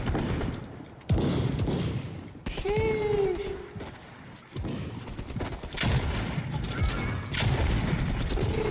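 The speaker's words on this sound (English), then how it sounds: "Who's over here shooting?" Gunfire and clattering mechanical weapon sounds from Rainbow Six Extraction come in short bursts and clicks, moderately loud, mixed with game effects and a person talking.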